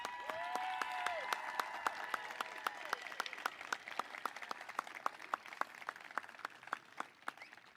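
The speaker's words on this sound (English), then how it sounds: "Give them one more round of applause." An audience applauds a graduating class at a commencement ceremony with scattered, distinct claps that stay fairly faint and distant and thin out over several seconds, with a brief vocal cheer near the start.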